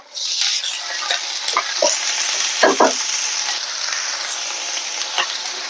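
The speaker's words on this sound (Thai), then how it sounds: "มาผัดถั่วงอกกันนะคะ" Bean sprouts stir-fried in a hot pan give a loud continuous sizzle, with a few scraping stir sounds over it and no talking.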